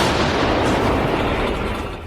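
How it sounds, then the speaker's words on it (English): A Bohdana artillery cannon fires a shell, heard as one loud, heavy blast that fills the space and rumbles away over about two seconds, with no voices. "The cannon fires a shell and the artillerymen lift another one."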